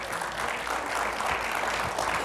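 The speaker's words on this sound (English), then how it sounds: "You can applaud." Audience applause at a live talk event, a dense, even wash of many hands clapping throughout, fairly loud and sustained with no break.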